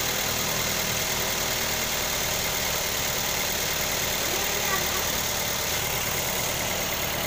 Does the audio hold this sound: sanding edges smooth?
no